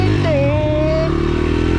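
A replica of the Terminator motocross motorcycle runs steadily with a loud, close engine drone for the whole two seconds, a rising whine passing over it partway through.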